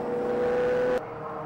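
A Spire GT3 and a Radical SR3 race at a circuit during a six-hour relay, one engine howling at a steady high pitch before the sound cuts sharply to a lower, distant drone.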